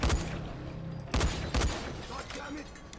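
Gunfire in the video game Dying Light: a few sharp, loud shots close together near the start, then two more cracks about a second later, with game ambience trailing between them.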